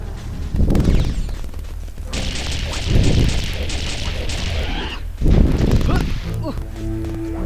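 Grenade explosions in the video game Jet Force Gemini boom in several loud bursts with crackling tails, separated by short gaps, while other game sounds continue between them.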